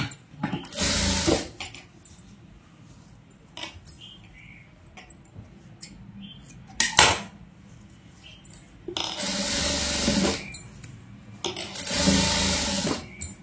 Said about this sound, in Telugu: ఇప్పుడు మనం ఇలా స్టిచ్ వేసేసామంటే ఇటు పైపింగ్ ఉంటుంది